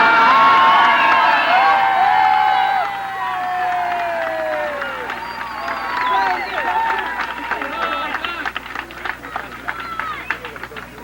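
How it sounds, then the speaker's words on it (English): A crowd at a 1978 election night event cheers and shouts loudly, the roar gradually thinning into scattered clapping and whoops, with voices rising over it. "If you're going to cheer, do it in English"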